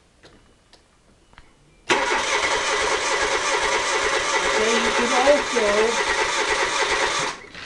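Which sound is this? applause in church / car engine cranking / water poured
car engine cranking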